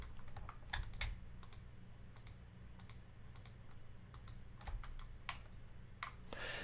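Keys on a computer keyboard click in short bursts of keyboard shortcuts, several quick taps per cluster separated by pauses, close and fairly quiet over a low hum.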